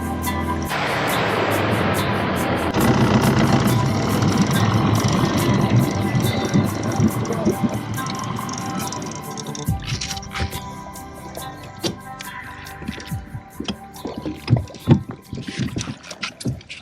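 A ZEGO fishing boat motors across open water. Loud engine and hull-on-water churning run steadily at first, then give way to sloshing, splashing and scattered knocks, with voices faintly underneath.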